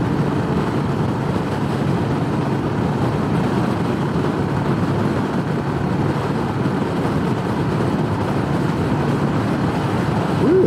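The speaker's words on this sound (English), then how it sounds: "that is strong wind" Loud, steady strong wind, about 18 mph with 25 mph gusts, rushes and roars without letup during a motorcycle ride on a Ducati Monster Evo 1100, a broad buffeting noise filling the whole stretch.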